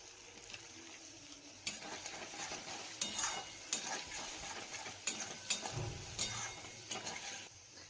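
Onion frying in a pan with turmeric and chili powder, a steady close sizzle with repeated scraping and stirring clinks of a utensil against the pan, no voices.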